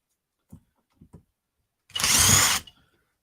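Power tool working on carburettor bolts in a workshop: three short knocks of handling, then a single loud burst of about a second from a drill or driver spinning the bolts, close and alone.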